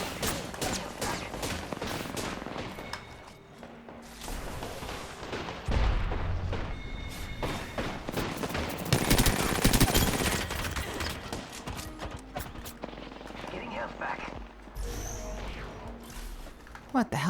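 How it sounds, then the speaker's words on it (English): Gunfire in the video game Metal Gear Rising: Revengeance: dense, rapid bursts of shots and booming impacts crowd the whole stretch, loud and chaotic, with a player talking over the action. "What is shooting in here?"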